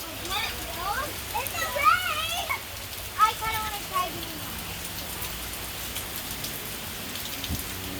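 Steady rain falls outdoors during a thunderstorm, a constant wash of drops beneath lively children's voices and excited chatter that rise and fall over it.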